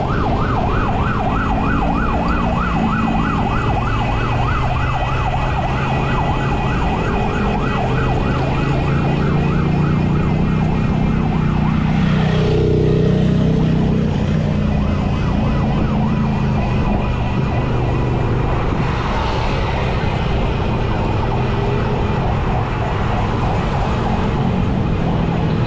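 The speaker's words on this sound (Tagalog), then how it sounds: "Ayaw pa unahin ang ambulansya" An ambulance siren wails steadily on a road in Balagtas, Bulacan, cycling continuously throughout over rumbling traffic and engine noise from a ride along the highway.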